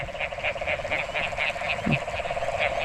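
Frogs croak in a steady pulsing chorus in a rice field after rain, dense and continuous, with a rhythmic chirring layer over a constant background drone.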